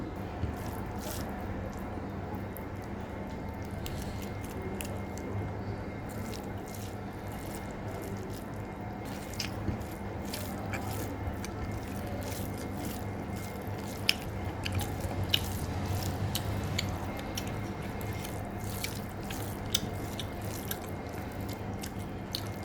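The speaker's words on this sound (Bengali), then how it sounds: "টমেটো দিয়ে চিংড়ি ভুনা করছি ঝাল ঝাল করে তো সেটাই খেয়ে নিব এখন" Someone eats spicy shrimp bhuna cooked with tomato, with soft wet squishy chewing and small clicky mouth sounds repeating close up for a long stretch, no talking.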